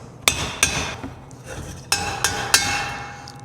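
A large hammer taps on the metal burner of an AquaHot diesel heater, giving six sharp ringing metallic strikes in an uneven rhythm, each leaving a short resonant tone, with no talking.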